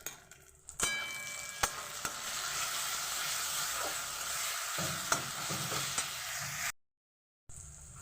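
Spice paste for a mutton and potato curry sizzling in a pan while being stirred, a continuous frying hiss punctuated by sharp spoon clicks and scrapes against the pan, with a brief silent gap near the end; no speech.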